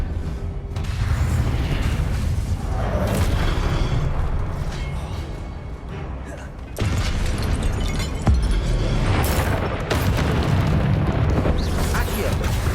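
A Convulso spell blast in Hogwarts Legacy combat, a loud rumbling burst amid continuous dense battle noise, with a sharp impact partway through and further booms following.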